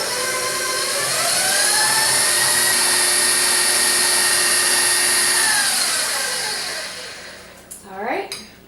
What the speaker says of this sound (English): All right, mixer goes off.